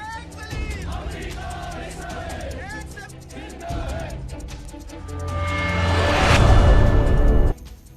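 A crowd of Muslim protesters in Jammu shouting slogans against Israel and America, massed voices rising in loud rhythmic bursts that swell into a sustained roar before cutting off.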